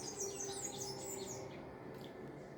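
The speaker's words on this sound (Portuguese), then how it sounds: "Os passarinhos hoje estão muito fortes." Birds chirping outdoors, a bright flurry of tweets carrying on through the whole moment, moderately loud and fairly close.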